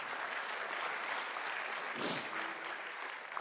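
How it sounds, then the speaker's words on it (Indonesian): Applause from a seminar audience for TNC and One Vision, a quiet, distant wash of steady clapping with a brief louder burst midway. "gak ada salahnya tepuk tangan yuk buat TNC dan One Vision"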